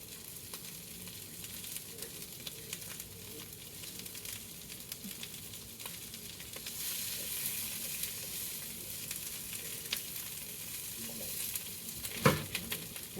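Butter sizzling and frying in a pan with lamb chops, a steady soft hiss with scattered crackles and occasional stirring clicks, one sharper clatter near the end, no talk.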